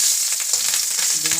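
Fish roe frying in hot oil with a continuous bright sizzle, close and steady throughout, with no talk.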